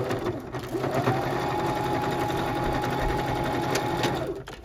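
Sewing machine stitching two quilt pieces together with a quarter-inch seam, a fast, even mechanical whirr of needle strokes running steadily for several seconds before stopping, close and moderately loud.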